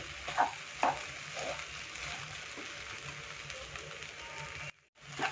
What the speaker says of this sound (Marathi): हे बघा एकसारखी अशी खिचडी सारखं हलवत राहायचं खालवर